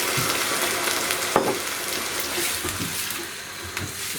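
Homemade chicken stock pours steadily into a soup pot of broccoli and carrot soup, a continuous splashing, gurgling stream with a brief sharper splash partway through.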